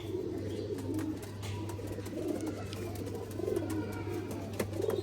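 A female Sialkoti pigeon in breeding condition coos in repeated soft, low phrases close by, over a steady background hum.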